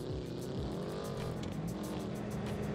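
A car engine in BeamNG.drive, racing under Jupiter-like gravity, drones and strains loudly at rising and falling pitch, with brief tire squeals and other cars rushing past.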